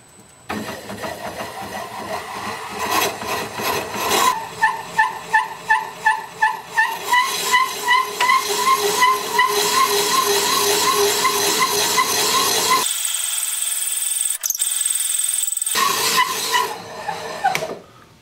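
A wood lathe boring out a rustic turned vase with a larger bit: the motor starts up, then a loud sustained whine and grinding with pulsing cuts, briefly dropping before resuming.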